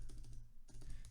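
Close, quiet clatter of keys on a computer keyboard as a ChatGPT prompt is typed, quick taps in two short runs broken by a brief pause.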